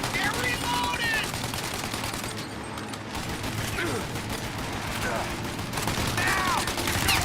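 A dense gunfire shootout in the Mafia: Definitive Edition video game, with rapid overlapping gunshots and machine-gun bursts rattling continuously, joined by shouting voices.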